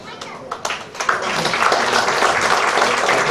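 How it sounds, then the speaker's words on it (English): Audience clapping at a family introduction event, beginning with a few scattered claps that quickly swell into steady, dense applause from a large crowd, with some voices mixed in. "Claps are gradually coming down"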